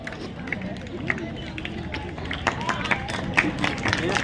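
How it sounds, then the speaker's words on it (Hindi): Schoolchildren clapping to welcome a guest at an Independence Day celebration, a loose, continuous patter of many hands with scattered louder claps, crowd murmur underneath and a voice speaking over it. "तो पूरे सभी बच्चे जोरदार तालियों से इनका स्वागत करें"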